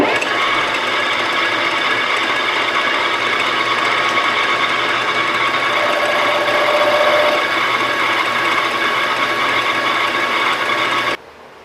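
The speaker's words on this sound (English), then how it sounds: "that's 900 RPM, by the way. That's the high range on the lathe right here." A metal lathe runs steadily in its high 900 RPM range while cutting a workpiece, giving a continuous whirring, grinding mechanical drone that holds even throughout and cuts off abruptly right at the end.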